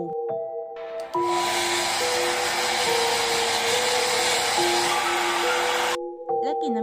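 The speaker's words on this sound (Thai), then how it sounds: "แล้วเราก็ทำการเป่า" A hair dryer blows steadily on a washed long wig, a loud continuous whooshing hiss that starts abruptly and cuts off after about five seconds, with background music before and after.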